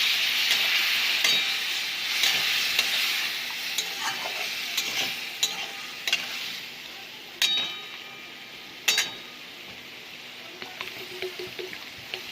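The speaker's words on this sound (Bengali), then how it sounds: "সামান্য একটু জল দিয়ে কষিয়ে নেব" Jackfruit seed curry with chopped tomato being sautéed in a pan with a little water: a steady bright sizzle and repeated sharp scrapes and clinks of a spatula stirring close by. No voices.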